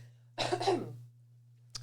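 A single short cough, close and dry, followed by a brief click after a pause, with a steady low hum underneath.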